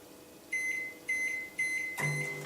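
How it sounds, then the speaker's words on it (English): Four short electronic beeps from a microwave set on high, evenly spaced, the last one running into a louder hum as the oven starts. "I'll pop it in the microwave on high for 30 seconds"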